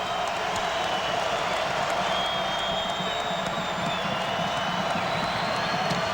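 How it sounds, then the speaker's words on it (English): A basketball arena crowd cheers loudly during a Kentucky game at Vanderbilt, a steady roar of voices with whoops, whistles and clapping sustained throughout. "And the crowd gets back into it."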